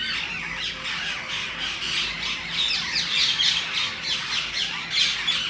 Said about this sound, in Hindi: कितनी सारी चिड़िया, चिड़िया तोते, पता नहीं तोते इतने सारे